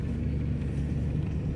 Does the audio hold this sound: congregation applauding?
no